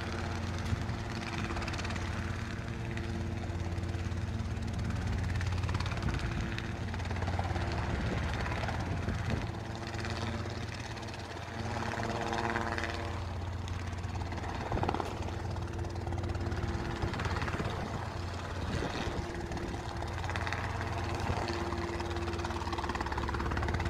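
A small training helicopter hovers outside a hangar with a steady, close rotor and engine drone that holds its level throughout, with no talk over it.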